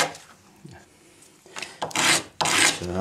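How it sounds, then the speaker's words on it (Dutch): Raspy filing strokes taking sharp edges off pine wood, starting soft and scattered, then two long, loud rasping passes close up near the end. "Zo, scherpe kantjes eraf"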